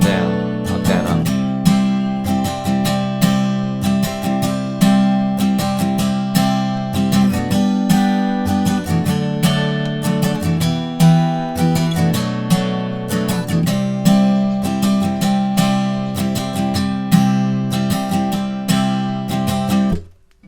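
Acoustic guitar strumming the intro and verse of a song in a steady down-up pattern, dense and full, played alone at an even close-up level for about twenty seconds.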